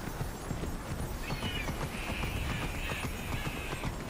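Galloping horse hooves in Immortals Fenyx Rising, a steady rapid clip-clop rhythm running the whole way at moderate level, with faint brighter game tones layered above.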